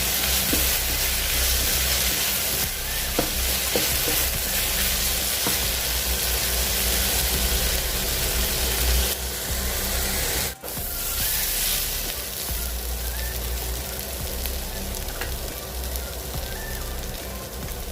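A spoonful of turmeric is stirred into a spicy crab roast masala sizzling in a pan, with steady frying hiss and occasional scraping of the spoon, loud and continuous throughout.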